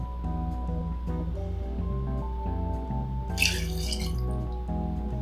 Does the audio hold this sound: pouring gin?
yes